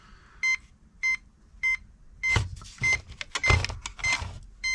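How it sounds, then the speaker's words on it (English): A series of short, evenly spaced electronic beeps from the receiver of a UDIRC 1611 brushless RC car, then the beeps continue under clattering handling noise and motor whirs. "And you hear that beeping."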